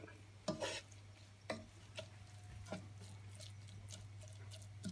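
A spoon stirring a tuna, zucchini and carrot filling, giving faint, soft scrapes and light clinks at irregular intervals over a low steady hum.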